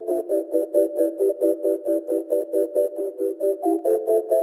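A processed synth-like sample in FL Studio, treated with bitcrushing, EQ cutting the lows and reverb, plays as a steady run of short pulsing notes repeating about four times a second, loud and alone.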